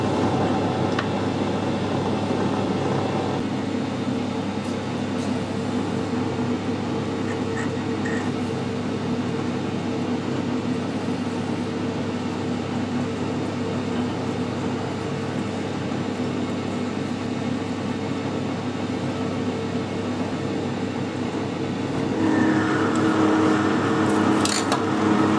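Aluminium being screw-cut on a lathe: a steady mechanical machining drone with faint scraping runs without a break, and a shift in tone near the end as the cut changes.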